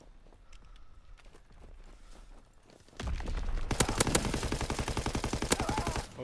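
Gunfire in a WW2 shooter video game: quiet movement and faint shuffling sounds, then loud, rapid automatic bursts that erupt midway and rattle on continuously to the end.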